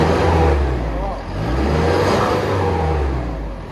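A Ford F250 double-cab 4x4 pickup with a Cummins diesel engine revs up close and loud, its deep rumble dipping briefly before climbing and holding again.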